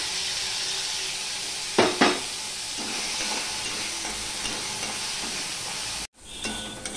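Ginger and chopped tomato fry in a pan for a vegetarian ridge gourd curry, a steady close sizzle with a few sharp stirring scrapes near the start and a brief break near the end.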